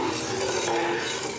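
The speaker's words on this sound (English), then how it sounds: "Give that just a little stir." Moonshine with cranberries and jalapenos being stirred in a large pot, a steady close-up swishing and scraping of liquid and utensil against the pot that runs continuously without speech.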